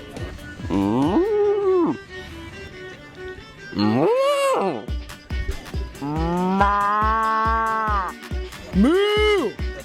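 A person imitates a cow, letting out several drawn-out, wavering moos with short pauses between them, loud and close, during a street interview.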